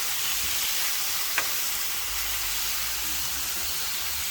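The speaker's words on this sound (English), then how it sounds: "Hear the sizzle." Steady, loud sizzling of chicken frying on a hot griddle, a continuous close hiss with a single brief click partway through.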